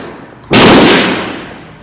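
A single M9 pistol shot fired at a 25-meter range cracks sharply and loud, then trails off in a long echoing decay across the open space.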